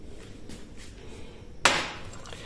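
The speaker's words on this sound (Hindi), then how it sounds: "बस इसको ऐसे कूटना है अच्छे से।" A single sharp pound strikes roasted spices for masala in a mortar, a bright crack rising above a steady low background hum, then ringing off briefly.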